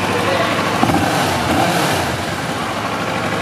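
A 2009 Kawasaki Ninja 650 motorcycle engine running at a steady idle close by, a continuous loud rumble with no breaks.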